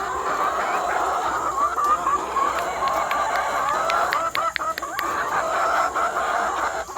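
Hens in a coop being fed grass cluck steadily and softly in a continuous murmur, with a few sharper calls and clicks now and then and no voices.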